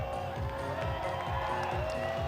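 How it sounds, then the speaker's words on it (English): A crowd at a lead climbing World Cup competition cheers steadily for a climber on the wall, a continuous roar of voices with rhythmic clapping underneath. "listen to the cheer from the crowd"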